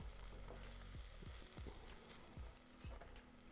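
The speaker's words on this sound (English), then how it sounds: "You hear that sucker sizzling right there on that box." Steady close sizzling of food frying on a hot surface on a barbecue smoker, with a few scraping or tapping sounds over it.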